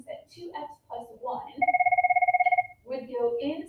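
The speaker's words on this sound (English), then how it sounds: "Sorry, my phone is ringing and I'm just going to have to answer it later." Mobile phone ringing with a steady electronic pulsing tone for about a second, in between stretches of a person talking before and after it.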